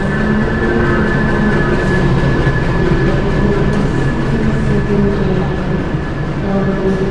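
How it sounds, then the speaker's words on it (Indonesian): The Pasundan train, running from Kiaracondong to Surabaya Gubeng, rolls into platform 2 at Madiun station at night with a loud, steady rumbling roar and a sustained high squealing tone over it. "Dan ini di jalur 2 ada kereta api yang masuk."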